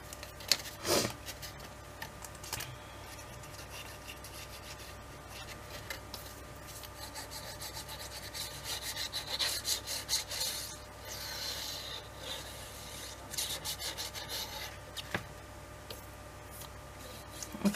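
Glued paper pocket pressed onto an album page by hand: soft, continuous rubbing and scraping strokes at close range, quiet, with occasional light taps and crinkles.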